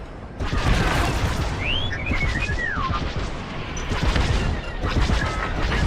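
Starfighter blaster fire and explosions crackle through a Star Wars: Squadrons space battle, dense bursts of shots and booms layered over a constant engine roar with short electronic chirps.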